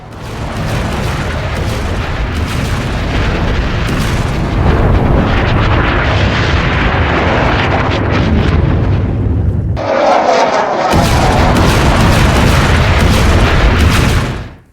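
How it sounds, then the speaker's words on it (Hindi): A sustained, roaring blast rumbles loudly for many seconds, dense and broadband, with a brief dip before the roar surges back. "ये वो धमाका था जो खमनेई के ऊपर हुआ था"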